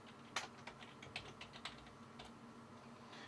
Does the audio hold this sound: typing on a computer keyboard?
yes